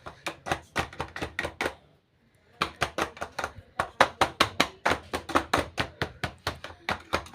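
Biscuits crushed with a glass for a lemon cheesecake base, a steady run of sharp, close pounding knocks, each a dry crunchy thud, with a short pause partway before the rapid pounding resumes.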